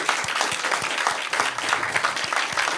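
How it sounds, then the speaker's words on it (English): Loud, close applause from a small studio audience after a full-band in-studio radio session, with distinct individual claps and a lively, uneven rhythm throughout. "Give everyone a big applause."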